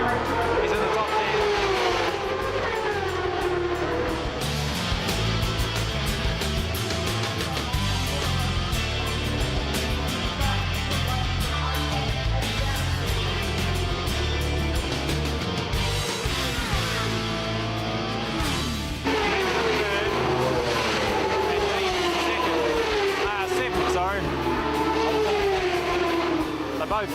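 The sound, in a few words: racing motorbikes on track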